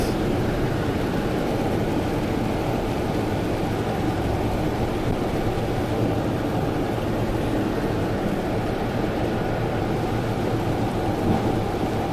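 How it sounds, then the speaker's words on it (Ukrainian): A constant dense roar of heavy rain, unbroken and even throughout, with no voices. "Сильний дощ"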